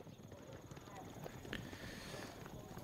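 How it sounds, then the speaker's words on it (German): Horses gallop with a rapid, continuous clip-clop of hooves in the medieval strategy game Age of Empires IV, heard at moderate level over steady battlefield ambience and faint background chatter. "So, dann kommen die Pferde dahin."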